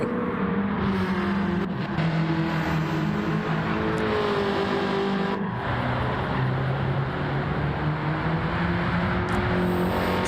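TCR touring race cars roar past on a circuit in damp conditions, engines droning loud and steady with rising and falling pitch as they accelerate and shift, one car after another, with no talk over them.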